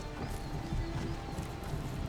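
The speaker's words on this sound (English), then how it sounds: "What is this horse?" A horse in the Skyrim video game clops along at a steady pace, its hoofbeats mid-level and continuous alongside a brief whinny, with no speech over it.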